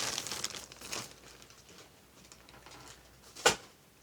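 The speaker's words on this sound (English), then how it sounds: "There'll be a lot of crinkling here." Wrapping crinkles and crumples close by as a handmade gift is unpacked, in a few scattered rustling bursts with a sharp crackle near the end.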